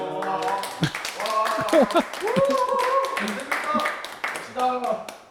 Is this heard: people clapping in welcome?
yes